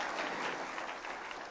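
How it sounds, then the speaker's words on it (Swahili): Audience applause for the chief principal at a KAWI week celebration in Kitui, a steady wash of clapping from a crowd that holds at an even level for the whole stretch. "Wapi makofi ya Chief Principal tafadhali."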